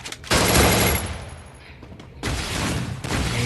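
Shotgun blasts in an online battle-royale game match, two loud sustained bursts of gunfire separated by a quieter gap, close and dominant.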